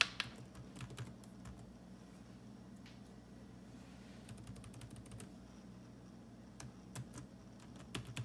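Quick light keystrokes on a computer keyboard, a short run of soft clicks typing a single word, then scattered taps near the end, faint and close over a low hum of fan or air conditioning.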